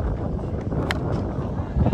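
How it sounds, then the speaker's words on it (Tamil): Strong gusting wind buffets the microphone at an outdoor cricket match, a steady rumbling roar with brief brighter rustles, with some voice in the background. "செமையா காத்து வீசுது."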